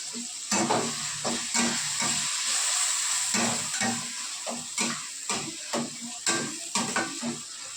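Tomato sauce is stirred into a hot frying pan, a loud, close sizzle broken by repeated utensil scrapes and clinks against the metal in an uneven rhythm, with no voices.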